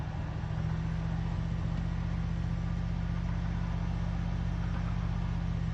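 V8-swapped Toyota Celica GT engine idling at about 1400 RPM, a steady, loud low rumble that holds an even pace throughout, with no voices.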